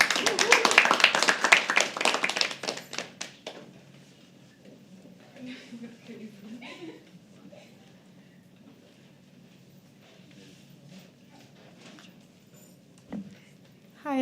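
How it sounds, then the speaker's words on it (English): Audience at a live poetry open mic claps for a performer, a loud dense burst in the first three seconds that fades out, followed by a quieter stretch of murmuring and faint room sounds. "So can we please start clapping for Nikita?"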